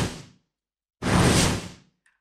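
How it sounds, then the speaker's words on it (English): Two pressurized whoosh sound effects built from wind turbine recordings: a short fading burst, then after silence a louder, fuller rushing swell that ends with a faint tail. "We've got this sound that I've named called pressurized whoosh. This is what it sounds like by itself."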